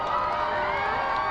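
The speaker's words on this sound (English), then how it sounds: "Can you hear that crowd screaming now" Dense crowd noise of screaming and cheering voices rising together during a total solar eclipse, a steady, loud wash of distant shouts and whoops with no single voice standing out.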